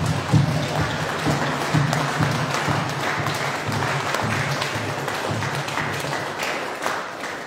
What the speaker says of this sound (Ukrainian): оплески від команди «Музика заради життя» для вас